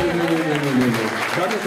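Applause for musicians at an outdoor town music event in Skalica, a steady crowd clapping that runs throughout beneath a voice speaking over it.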